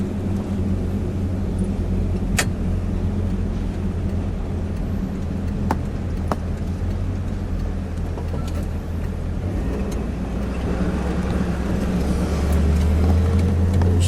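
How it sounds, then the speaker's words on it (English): A 1959 DeSoto Adventurer with a 383 dual-quad V8 cruises through residential streets, a steady low engine rumble and road noise throughout, with a few faint clicks and a slight swell near the end. "We're just driving around the neighborhoods of Carlisle."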